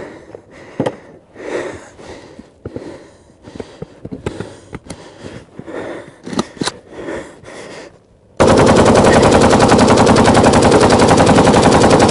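Kalashnikov rifle rounds cooking off from heat: a long run of sharp, uneven cracks and pops in irregular bursts, some close and loud, ending in a sudden dense, continuous roar.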